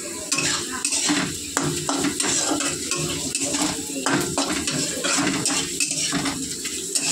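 Onion and dried red chili frying in hot oil while a spoon stirs and scrapes the pan in steady, repeated strokes, with clinks against the metal over a constant sizzle.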